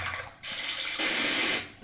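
Fountain water sound effect from Lumion: a steady, soft rush of splashing, pouring water, continuous across a couple of seconds with slight surges in level and no voices.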